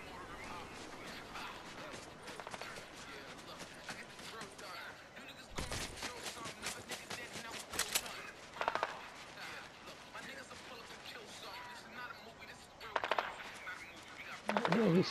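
Rapid video game gunfire in bursts and single cracks, moderately loud, with sharper volleys near the middle and end, mixed with background game noise while people talk over it.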